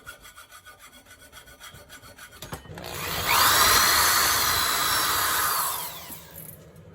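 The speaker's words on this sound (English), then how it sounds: "you heard that I had pre-drilled this conduit here" A power drill on pre-drilled metal conduit: a quiet scraping rasp gives way to a loud, steady grinding whine for about three seconds, then fades back to faint scraping.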